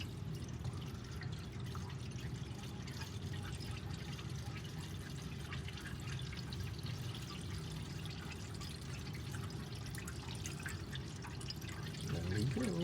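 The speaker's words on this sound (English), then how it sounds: "let's go ahead and put coolant in it carefully and slowly" Coolant poured slowly through a funnel into the radiator of a 1965 Mustang coupe, a steady low gurgling trickle that continues evenly throughout at moderate level.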